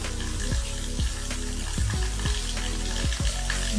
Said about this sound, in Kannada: ಇದನ್ನು ಒಂದು ನಿಮಿಷ ಆಗಷ್ಟು ಡ್ರೈ ರೋಸ್ಟ್ ಮಾಡೋಣ ರೀ